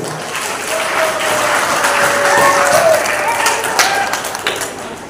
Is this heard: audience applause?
yes